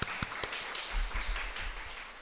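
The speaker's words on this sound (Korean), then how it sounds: "박수" A church youth-service congregation claps after a short mission report: a quiet, steady patter of applause with a few sharper individual claps, fairly distant and without voices.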